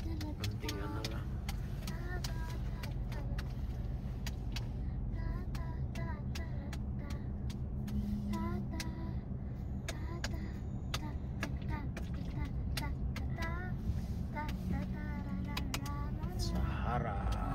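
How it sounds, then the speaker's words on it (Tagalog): Road traffic on a Las Vegas street heard from inside a car, a steady low engine and tire rumble running continuously with clicking ticks and people talking over it. "Yan ang traffic dito."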